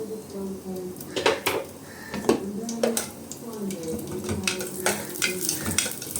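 Finely chopped coconut frying in ghee in a pan, a low sizzle almost buried under repeated clinks and scrapes of a metal spoon on the pan, close and irregular, with faint voice sounds.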